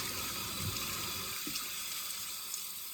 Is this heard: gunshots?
no